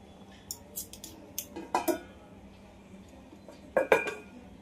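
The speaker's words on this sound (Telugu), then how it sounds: "ఇప్పుడు మనం మూత పెట్టేసుకోవాలి." A metal lid is set onto a cooking pan of carrot halwa, giving a few light clinks and clatters followed by a louder pair of metallic knocks near the end, close by in a quiet kitchen.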